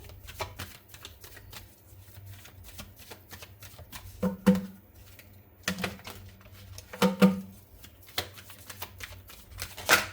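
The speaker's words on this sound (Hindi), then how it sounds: "अब मैंने यहाँ पर 4 कार्ड्स निकाले हैं" Tarot cards being shuffled and drawn up close, with quick riffling bursts, soft slaps and flicks of card stock in irregular clusters, fairly quiet with short pauses between.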